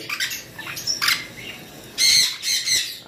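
A pair of sun conures or pineapple green cheek conures gives sharp, raspy squawks at close range, several quick calls in a row ending in a longer, louder burst.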